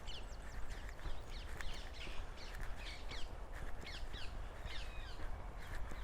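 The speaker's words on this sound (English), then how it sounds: "And just listen to all the birds" Birds call repeatedly beside a nature reserve along a commuter path, with caw-like calls recurring throughout over a steady low rumble of outdoor background noise.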